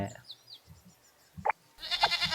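A goat bleats in the Zoo 2 Animal Park zoo game, a few short wavering cries near the start, then a louder blast of game sound while someone talks over it.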